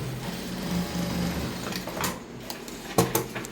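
Sewing machine running steadily while stitching straight seams on a dress, a continuous low mechanical hum broken by a few sharper clicks and knocks near the end.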